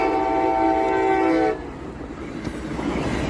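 A CSX train on the Grand Rapids subdivision, one engine pulling three cars at about 65 mph, sounds a loud horn blast, then passes close by in a rushing roar of wheels and wind.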